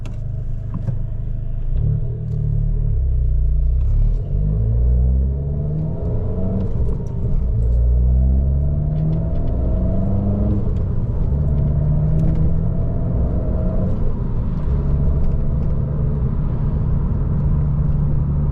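A car in sport mode pulls hard under acceleration, its engine rumble climbing steadily in pitch through the gears, loud and continuous from inside the cabin.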